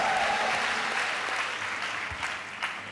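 A church congregation applauds as an offering of acclamation, a dense, sustained wash of many hands clapping that gradually thins out.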